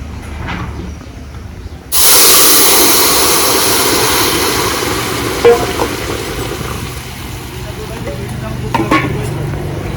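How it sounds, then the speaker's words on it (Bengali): Broth is poured over a sizzling tempering of bay leaf and black cumin in hot oil, setting off a sudden, loud, steady hissing sizzle that slowly eases, with a few faint clinks. "তেজপাতা আর কালো জিরে ফোড়ন ফোড়নের ওপরে ঝোল ঢেলে দেব"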